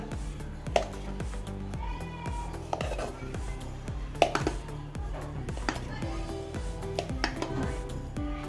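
Hot boiled poovan plantains being cut: a regular series of knife taps against a board, close by and evenly paced, over a background of steady tonal sound.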